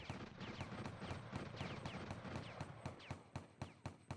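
Rapid gunfire in the Infantry Online video game: a fast, regular string of sharp shots, about four or five per second, continuous throughout and fairly faint, with no talk.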